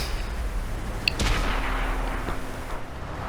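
A Chieftain Mk6 tank gun in a video game fires one sharp shot that rolls off into a fading rumble, standing out against a low background hum.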